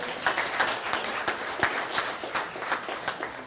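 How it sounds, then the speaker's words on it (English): An audience at a stage presentation claps in a moderate, continuous patter of many hands, fairly close and even in level throughout. "Give Nancy a round of applause, everybody"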